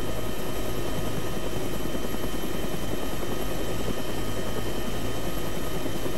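A medium utility helicopter hovers in the ArmA3 game, its rotor producing a loud, steady, dense chopping roar that continues unbroken throughout with no talk over it.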